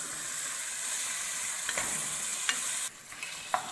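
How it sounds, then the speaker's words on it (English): Food sizzles and fries in a pan while being stirred continuously during an oriental cuisine cooking practical, a steady hiss with a few sharp utensil scrapes and clinks, the sizzle dropping abruptly near the end. "We will stir it continuously and cook for another 10 to 15 minutes."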